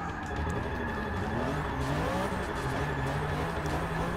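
1997 BMW E36 M3 drift build in Forza 6, engine revving high and steady with wavering pitch and tire squeal as it holds a slide, continuous and fairly quiet.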